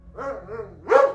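A dog gives two short, fairly loud barks close by, with the second bark sharper and stronger. The barks are a sound effect within a spooken horror story.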